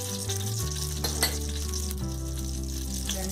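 Mustard seeds fry in hot olive oil in a pan, giving a dense, continuous sizzle with crackling pops, close and steady throughout with a low hum beneath.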